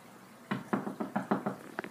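A quick series of about eight knocks on a door, fairly soft and a little distant. The knocks come in an irregular rhythm against a quiet background.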